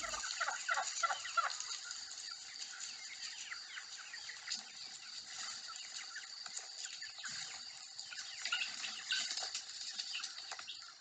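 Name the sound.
guinea fowl calling near their nest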